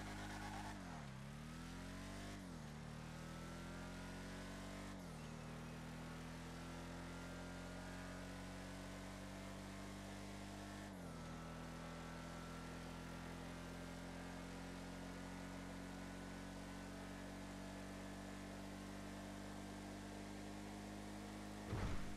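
The Declasse Tulip runs a speed test in Grand Theft Auto Arena War, its engine droning steadily and fairly quietly while it climbs through several gear changes and then holds a long sustained pitch at speed.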